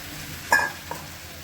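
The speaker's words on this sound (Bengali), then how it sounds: "মাছের মাথাগুলো দিয়ে দিচ্ছি।" Fish heads go into a pan of cabbage, giving one sharp sizzling burst as they hit the hot oil, then a small clatter and quiet frying in a home kitchen with nobody talking.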